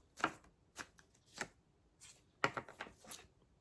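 Tarot cards being shuffled by hand, a series of short crisp riffling bursts in irregular rhythm, close and quiet with silence between, no speech.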